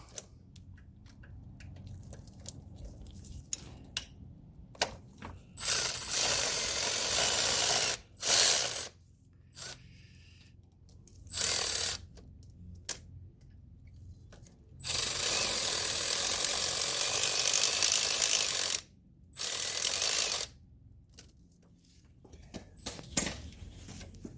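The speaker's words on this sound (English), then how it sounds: "Go ahead and remove those two 12mm bolts." A ratchet works 12mm bolts loose from the clutch slave cylinder of an Acura TSX, with repeated bursts of fast clicking pawl action separated by quiet pauses, close and fairly loud.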